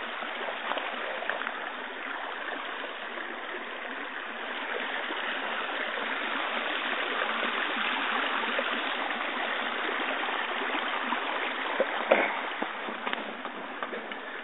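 A river on the Mishe Mokwa Trail rushes and gurgles steadily, a continuous stream flowing nearby with no other sounds over it.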